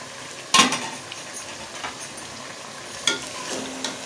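Chicken and potato curry with red chilli, roasted cumin and coriander powders is stirred in a pan: a sharp utensil clank, a soft sizzle and a few lighter knocks against the pot, with no talking.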